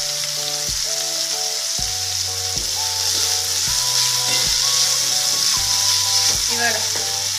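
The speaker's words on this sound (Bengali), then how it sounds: "পেঁয়াজগুলোকে এবার লাল করে ভেজে নেব" Onions frying in oil until browned for a Bengali raw banana kofta curry, a steady close sizzle under soft background music.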